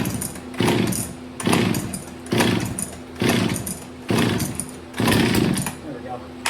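An antique Jonsered 52 chainsaw, found at an antique store, is coaxed to start, giving a series of loud, close engine bursts that rise and fall about every second.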